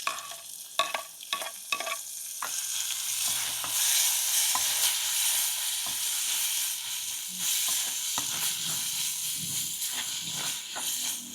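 Finely chopped tomatoes sauté in oil for an egg curry, giving a steady loud frying hiss with a few sharp clinks near the start. The sizzle carries on alone without voices.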